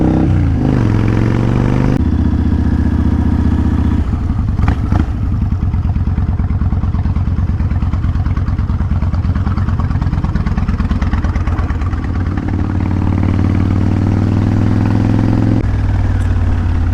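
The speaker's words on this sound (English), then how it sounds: "See, I'm not the only crazy fool out on a bike today" A motorcycle engine rumbles loudly and close while riding on a hot day on a road, with steady throttle and gear changes shifting its pitch.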